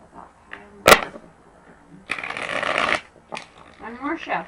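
Tarot cards riffled in a full one-second burst of crisp papery flutter, preceded by a sharp tap and followed by softer handling, with a voice speaking around it.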